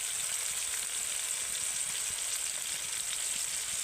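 Ginger and spices frying lightly in oil in a pan, a steady, close hiss of sizzling that runs unbroken throughout with no voices.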